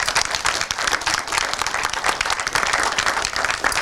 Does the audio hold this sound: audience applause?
yes